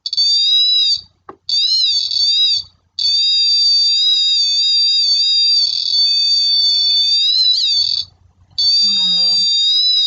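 Pitch of a kit-built electronic theremin swoops and wobbles as hands move near its antennas, a loud sustained electronic whine broken by a few short gaps, with faint handling noises underneath.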